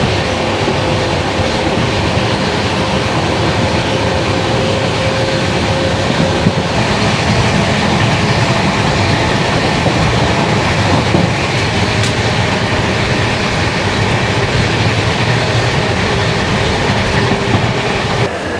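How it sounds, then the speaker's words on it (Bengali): The 12320 Agra Fort–Kolkata Superfast Express rolls along with a loud, steady rumble of wheels and carriages and a faint rhythmic clatter, running continuously without any talk. "কলকাতা স্টেশনে এসে পৌঁছালো 12320 Agra fort Kolkata superfast express"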